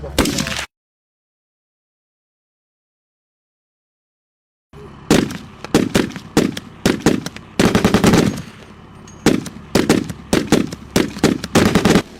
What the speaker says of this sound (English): we'll take some shots at the snowbank